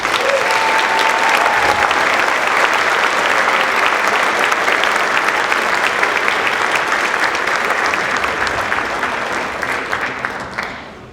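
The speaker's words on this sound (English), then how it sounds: "please join me once again in applauding all of our new National Honor Society members" A large audience at a high school National Honor Society induction ceremony gives long, loud, steady applause that carries on for over ten seconds before thinning and fading out at the end; a brief faint tone sounds near the start.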